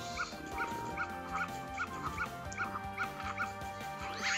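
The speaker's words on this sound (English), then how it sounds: "Stupid dog." A dog in The Legend of Zelda: Majora's Mask barks in a quick, regular run of sharp yips over the game's background music, fairly close and moderately loud.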